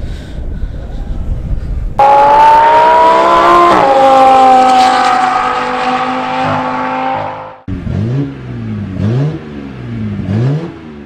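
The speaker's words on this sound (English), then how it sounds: "Audi R8 in the pits." Audi R8 with a 5.2L V10 engine in the pits at an Oulton Park trackday, revving loudly and close by in a sustained high rev, then dropping off into several sharp throttle blips.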